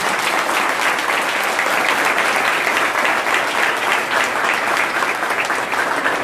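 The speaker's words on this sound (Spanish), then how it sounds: "Démosle un fuerte aplauso a los hermanos." Steady, dense applause from a church congregation welcoming visiting Pentecostal brothers, loud and even from start to finish with no break.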